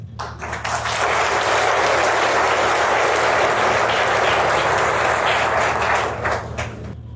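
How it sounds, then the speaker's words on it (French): Sustained, loud audience applause at a commemoration of the Gatumba tragedy, clapping swelling quickly and holding steady throughout with a low hum underneath. "je vous demande d'applaudir"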